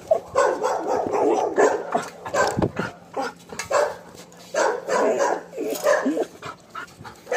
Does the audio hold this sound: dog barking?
yes